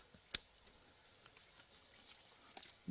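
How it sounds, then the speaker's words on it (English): Scissors snip through a strawberry runner on a container-grown plant, one sharp close cut early on followed by a few faint clicks and handling noises in a quiet setting. "So I'm just gonna go through, cut this runner."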